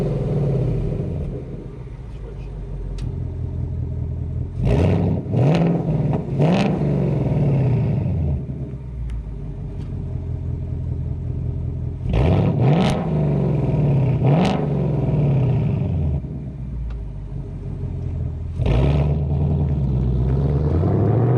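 A Ford Mustang GT with an MBRP Pro Series active cat-back exhaust idles with a deep rumble, then is revved hard in loud, close bursts, in pairs and threes, with no talking.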